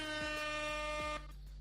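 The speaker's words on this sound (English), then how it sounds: "I think somebody had asked for an air horn sound effect, so there it is." A loud, blaring air horn blast holds steady with rich harmonics, then cuts out abruptly, leaving a brief fading tail.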